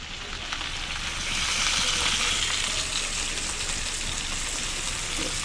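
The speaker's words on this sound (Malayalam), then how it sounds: "കരിവേപ്പിലയും കൂടെ ഇട്ടിട്ടുണ്ട്." Curry leaves fry in hot oil in a pan, giving a continuous close crackling sizzle that swells slightly after the first second and then holds steady.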